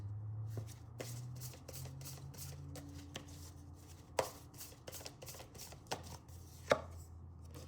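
A deck of tarot cards is shuffled in a quick run of soft, papery flutters and riffles with a few sharper snaps, close up over a steady low hum, with no voices.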